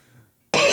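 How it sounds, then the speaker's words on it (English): One sharp, loud cough bursts out abruptly after a faint murmur and a moment of quiet. "Coughing."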